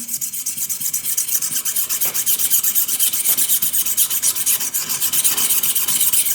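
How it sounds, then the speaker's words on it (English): A stone scrubs rust off metal that has been soaked, making a loud, steady rasping scrape in fast repeated strokes for the whole stretch, with no voices. "just attack the rust with the stone"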